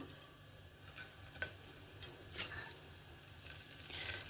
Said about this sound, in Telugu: నెయ్యి వేస్తున్నాను ఒక స్పూన్ జీలకర్ర కరివేపాకు